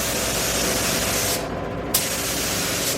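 A spray gun hisses loudly and close as it sprays paint onto Mercedes SL600 parts. The hiss is broad and steady, breaks off for about half a second, then starts again.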